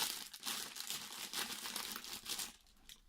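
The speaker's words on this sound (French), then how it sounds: "Bon, on va ouvrir Jiraiya." Plastic packaging crinkles and rustles as a Naruto figure of Jiraiya is unwrapped, a soft, continuous crackling close by with no talking.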